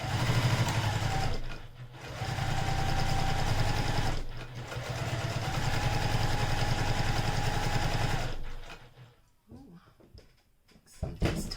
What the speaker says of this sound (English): I will back stitch at the beginning